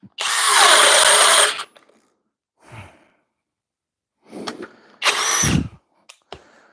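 A Flex compact drill bores into wood in two loud bursts, a sustained whine of about a second and a half, then a shorter run after a pause, with faint breaths and small knocks between.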